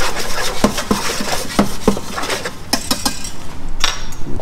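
Plain flour, salt and pepper being stirred in a bowl, with a run of irregular clinks and scrapes of utensil against the bowl, close and fairly loud.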